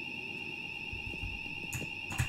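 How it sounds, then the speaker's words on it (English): A neighbour's alarm sounds from the next home, a steady shrill electronic tone held without pause, muffled through the wall, with a few dull thumps nearby. "That's some sort of alarm from the neighbors."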